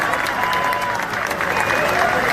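A crowd at an outdoor political campaign rally in Playas de Rosarito, Baja California, applauds steadily, the clapping dense and continuous with cheering voices mixed in.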